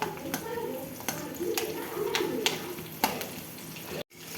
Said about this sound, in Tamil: இருபது சின்ன வெங்காயம் அதை சேர்த்துக்கலாம் சேர்த்து நல்லா வதக்கணும்